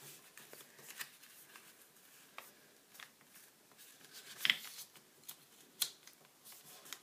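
Paper being creased and folded into an origami bow tie, with faint, close rustles and soft crinkles broken by a few sharper snaps of the sheet.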